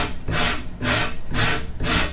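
A wood rasp shapes a guitar neck in four long, even strokes, each a loud, close, gritty scrape with brief pauses between.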